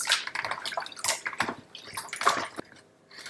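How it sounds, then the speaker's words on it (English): Cold water splashes and swishes as rice is rinsed, with irregular sloshing and trickling bursts close by. "wash it with coldish water"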